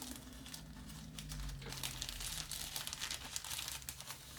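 Glitter sticker sheet being handled and pressed onto a backing card during assembly of a Tamiya 1/20 Ferrari F2001 scale model, giving soft, continuous crinkling and light crackling up close with no talk.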